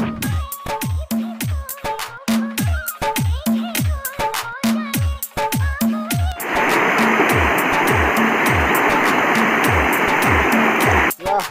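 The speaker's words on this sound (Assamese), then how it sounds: "পূৰা বাঢ়িছে পাহাৰীয়া নদী পানী" Loud, steady roar of a swollen mountain river's rushing water fills the second half, preceded by a stretch of rhythmic, pulsing music with no clear water sound.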